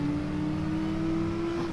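Race car engine in a racing game, held at a steady high drone with a strong constant whine through the whole stretch while battling to overtake another car, loud and close with no talk.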